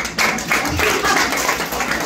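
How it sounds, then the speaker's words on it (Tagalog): An audience applauding in a church service, giving a short burst of steady, dense clapping that lasts about two seconds. "Palakpak naman dyan."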